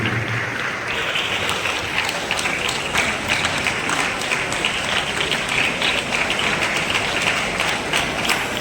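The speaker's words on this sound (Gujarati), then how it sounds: "જોરદાર તાળીઓથી એમનું આપણે સ્વાગત કરીશું." A school youth festival audience gives sustained, even applause welcoming a teacher onto the stage, many hands clapping in a continuous crisp patter from start to finish.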